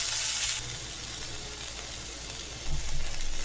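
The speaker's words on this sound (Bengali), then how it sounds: "এবার আদা রসুন পেস্ট দেবো" Ginger garlic paste sizzles in hot oil over fried onions for a Katla kaliya fish curry, a steady close frying hiss with a louder burst near the end as the paste is stirred.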